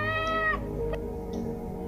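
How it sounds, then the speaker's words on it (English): A domestic cat meows once, a clear rising-then-falling cry in the first half second, followed by quieter low background hum with a faint brief tone near the end. "Cat."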